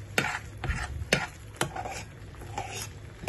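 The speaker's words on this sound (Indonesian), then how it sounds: "kayak gini dioseng-oseng sampai dia itu agak mengering ya" Sambal terasi stir-fried in a pan: a utensil scrapes and taps against the pan in an uneven rhythm over a low, steady frying sizzle, heard close up.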